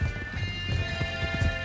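A horse in the video game Red Dead Redemption 2 clip-clops along at a steady, rapid rhythm, the hoofbeats close and clear with no talking.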